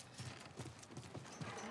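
Horse hooves clip-clop in a quick, even rhythm of soft knocks in The Last of Us, faint and close, with no one speaking.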